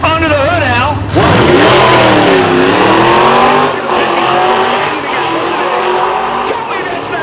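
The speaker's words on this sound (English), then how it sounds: "327 Chevrolet, double hump heads under the hood, Al." A 1957 Chevrolet gasser with a 327 engine and double hump heads revving loudly at a drag racing event, its engine note rising and falling in long pulls under an announcer's voice.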